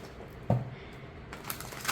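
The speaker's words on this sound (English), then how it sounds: "Shuffle this way, or how I would normally shuffle really large decks" A large oracle card deck of sturdy cardstock riffled in a quick shuffle, a brief close flurry of papery snaps and a few light taps, quiet and without talk.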